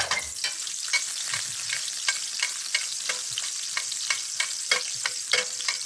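Breaded Wiener schnitzel deep frying in oil, a continuous bright crackling sizzle punctuated by regular bubbling pops, close and steady with no one speaking.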